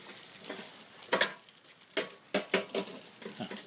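Frozen Costco burger patties sizzle in a hot pan, a soft steady frying hiss broken by a few sharp scraping clatters as they are moved and flipped.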